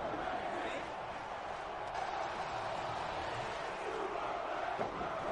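Wrestling crowd at an ECW-style hardcore event chanting a wrestler's name, a steady dense roar of massed voices filling the whole stretch with no single voice standing out.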